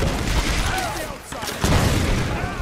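A grenade blows up in the Tomb Raider action game, a broad booming burst landing mid-clip amid ongoing gunfire and combat noise, loud and close.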